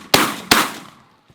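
Two sharp shotgun blasts close together while goose hunting in fog, each loud and near, with a faint distant shot trailing after; no talking.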